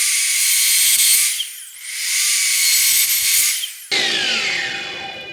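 An Evolution R255 SMS+ miter saw cuts through 1.25-inch black pipe with two loud, sustained high whines separated by a brief dip, followed by a rougher, grinding spin-down as the blade winds off.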